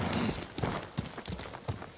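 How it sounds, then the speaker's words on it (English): Hooves clop in an uneven rhythm in the video game Ghost of Tsushima, several close muffled thuds of a horse moving at a walk over soft ground. "Horse!"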